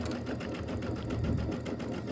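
Sewing machine stitching a quilted Christmas wall hanging, a steady, continuous rapid mechanical whir of needle strokes at close range, with no talking.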